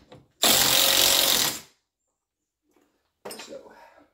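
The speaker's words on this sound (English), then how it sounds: "Me, I have pneumatic tools, so," A pneumatic impact tool fires a single loud burst of just over a second while working on a golf cart's front suspension, then falls silent before a shorter, quieter burst of rattling near the end.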